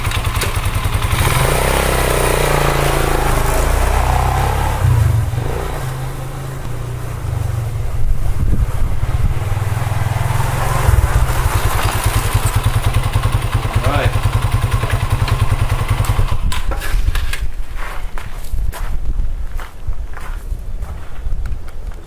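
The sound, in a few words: Chinese 150cc enduro dual sport motorcycle kick-started and ridden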